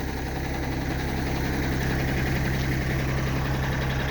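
Kioti tractor fitted with a large snowblower idling nearby, its engine giving a loud, steady low throb with a rough mechanical knock that stays constant throughout.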